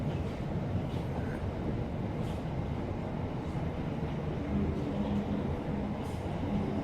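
A SouthWest Trains passenger train rumbles along the Alton–Guildford line, giving a steady, close interior roar with a faint squeal now and then as it slows for a left-hand turn.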